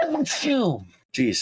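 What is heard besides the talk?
sneeze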